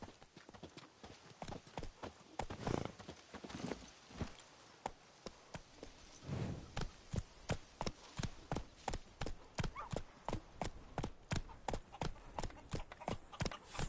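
Roach, a horse in The Witcher 3 video game, clip-clops at a steady walking rhythm, hooves landing close and evenly for the whole stretch, with a few soft voices and a faint snort mixed in.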